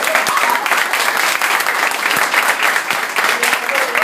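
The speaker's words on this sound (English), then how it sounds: "please give yourself a round of applause" Dense, steady applause from an audience at a 21st birthday celebration, close and continuous for a few seconds with no break.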